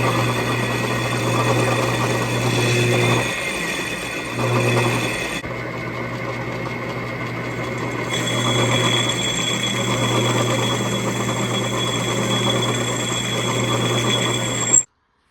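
A metal lathe machines a part for an ATC125M conversion, giving a steady, loud mechanical drone with a constant tonal hum, a few brief shifts in pitch, and a sharp cut-off at the end.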